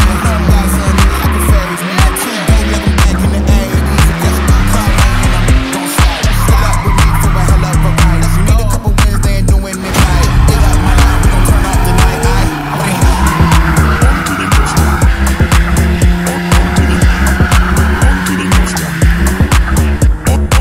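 A car drifting in tight spins around a cone, with loud, sustained tire squeal and engine revving filling the whole stretch, close up and without talk.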